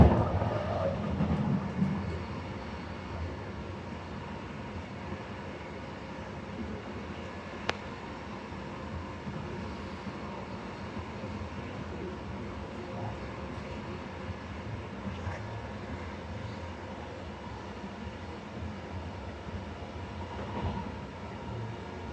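Brisbane Rosewood Line commuter train heard from inside a carriage: a steady rumbling roll with faint wheel clatter and a few light clicks throughout, continuous and even, without any talking.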